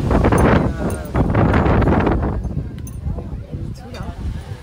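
Strong wind buffets an outdoor microphone in heavy low rumbling gusts that ease off toward the end, with a voice talking underneath.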